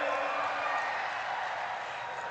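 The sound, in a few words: crowd applause at a political rally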